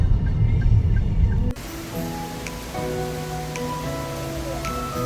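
A steady rain downpour in Manila hisses loudly for about a second and a half, then cuts to a quieter indoor mall scene where tonal music plays.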